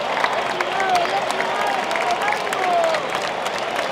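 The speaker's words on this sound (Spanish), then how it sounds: "Guardado se va con el aplauso del público" A stadium crowd at a Mexico vs Argentina football match applauds a substituted player as he leaves, with steady, dense clapping and murmuring voices filling the whole stretch, a few whistles rising over the top.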